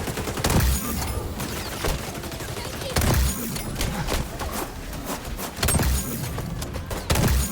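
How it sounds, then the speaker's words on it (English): Gunfire in the shooter game XDefiant, including sniper rifle shots, cracks out as heavy, booming reports about every two to three seconds, with rapid shooting and thuds in between. "Managed to melee their shield ults, and then I pulled out my sniper and hit this."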